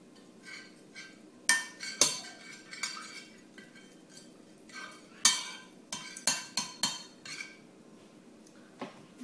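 Utensils clink and scrape against a bowl while seasoning with paprika, garlic, salt and pepper is mixed, a string of sharp metallic taps and knocks at irregular intervals, close and fairly quiet between hits.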